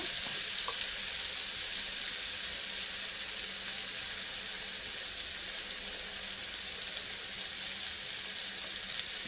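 Vegetables with turmeric sizzle and fry in a pan as they are stirred, a steady close hiss with soft scraping throughout and no talking.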